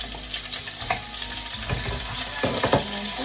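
Garlic and onion fry in a pan for a Filipino ampalaya and egg dish, giving a steady close sizzle with irregular bursts of stirring and scraping.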